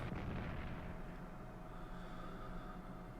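Bombing and artillery fire in the World War I strategy game Strategic Command rumble as a dense, continuous wash of low booms and crackling blasts, loudest at the start and then settling into a steady roar.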